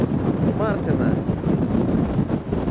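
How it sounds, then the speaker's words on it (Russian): Strong wind gusts roar and buffet the microphone on an island near Buenos Aires, loud and continuous, with a voice briefly speaking over it. "какой ветер. Куча фрио, куча вьента."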